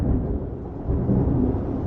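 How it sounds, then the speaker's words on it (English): Thunder muffled through a closed door during a storm in Corfu: a low, continuous rumble that swells slightly midway, dull and distant with the high end stripped away. "the thunder's about to happen."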